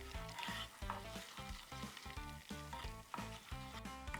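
Red chili powder is stirred quickly into a hot pan, a low rapid series of spoon scrapes and bumps with a faint sizzle underneath, quiet and close, with no talk.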